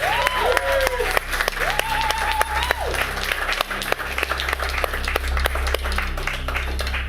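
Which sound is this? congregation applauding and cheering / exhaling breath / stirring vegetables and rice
congregation applauding and cheering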